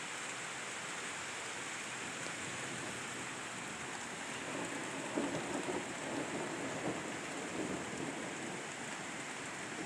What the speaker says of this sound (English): more or less this is nothing more than a thunder shower